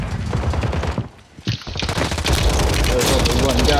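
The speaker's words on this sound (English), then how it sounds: "This gun has the worst bullet velocity ever" Rapid bursts of video game gunfire from a weapon with slow bullet velocity in a multiplayer shooter, loud and dense, pausing briefly before resuming into sustained automatic fire over a steady background.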